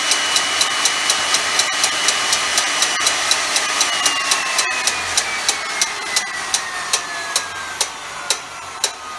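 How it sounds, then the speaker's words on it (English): A conductor pulling machine's motor runs steadily at close range, with a mid-pitched engine drone and rhythmic knocking ticks about twice a second, and a faint whine gliding slowly downward. "get your motor pulling"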